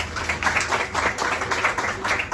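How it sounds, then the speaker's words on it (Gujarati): An audience claps loudly and steadily at a gathering honouring people with pens, a dense, even applause lasting the whole moment. "આપણે જોરદાર તાળીઓ પણ પાડીશું"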